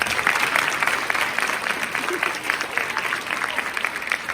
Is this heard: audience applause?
yes